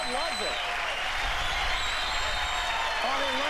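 A television studio audience at an American Gladiators competition cheers and applauds in a dense, continuous roar, with voices shouting over it.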